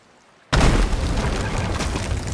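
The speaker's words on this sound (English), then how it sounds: "When the keg explodes, we're going to have a lot of fire." A gunpowder keg blows up on a sloop in the video game Sea of Thieves. A sudden loud boom opens the clip and gives way to a sustained, dense roar and crackle that continues to the end.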